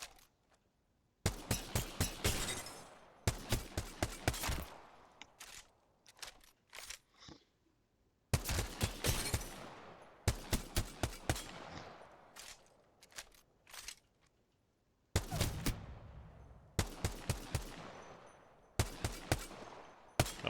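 G7 Scout rifle gunfire in Apex Legends: bursts of rapid, sharp shots in quick clusters of three to six, separated by silent gaps, loud and close with short trailing echoes.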